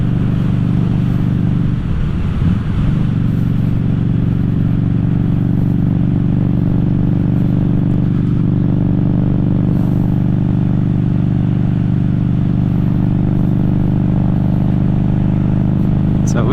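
Harley Davidson Street 500 motorcycle cruising at night, a steady loud low engine drone running throughout with little change in pitch, plus some clatter around the early seconds.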